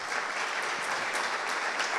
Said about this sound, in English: So let's have a round of applause for Susan.